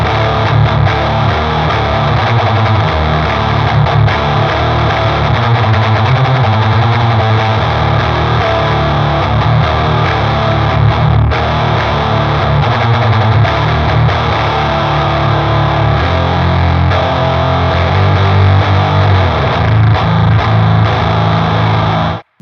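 Electric guitar played through a Boss HM-2 Waza distortion pedal set to its higher-gain custom mode, giving a dense, loud, saturated tone that rings continuously for over twenty seconds with no talking.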